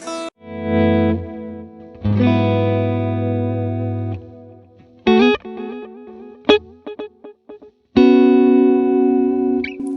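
An electric guitar plays through a Fractal Audio modeler with a ducking delay. Loud distorted sustained chords alternate with short choppy picked notes, and faint echoes rise in the gaps between phrases.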